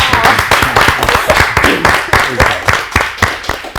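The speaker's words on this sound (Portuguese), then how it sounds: "Uma salva de palmas." An audience claps along in a fast, even rhythm right after a song, loud and close, with a faint voice heard between the claps.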